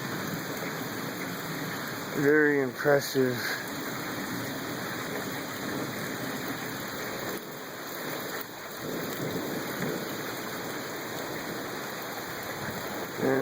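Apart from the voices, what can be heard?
thunderstorm with thunder and rain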